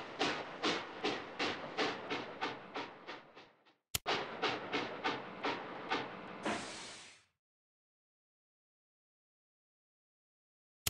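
Ride trains at a Curious George train station run past as a repeated clickety rhythm of wheel beats, two passes of about eight evenly spaced clacks each, ending in a brief hissing burst before silence.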